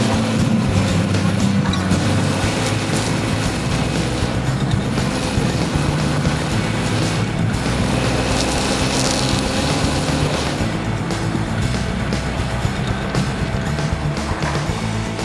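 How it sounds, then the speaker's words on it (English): Chevrolet Equinox front wheels spinning as it tries to climb a hill, a steady loud broadband roar of engine and tire spin with no pauses, filling the whole stretch with no speech. "Plenty of front-wheel spin, but no forward movement."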